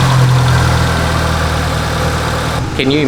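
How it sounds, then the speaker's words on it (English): A 33-year-old Proton fitted with a 4G93 engine idles steadily with a low, even hum, close by, before a brief shift of sound near the end. "the idling sounds super smooth, man"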